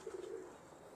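Pigeons kept by a fancier coo in a short, low, warbling phrase at moderate distance, fading out within about a second against a soft background hush.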